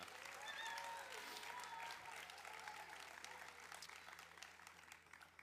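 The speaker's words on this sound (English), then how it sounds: "Let's clap for Emma" A school senior celebration audience applauds a student's awards, with steady, continuous clapping from a crowd heard at a distance and fairly faint throughout.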